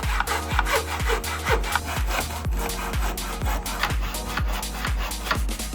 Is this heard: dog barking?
no